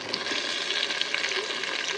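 Blended spinach poured into a pan of cooking mokimo: a steady wet sizzle with liquid bubbling and hissing, close up and unbroken for two seconds.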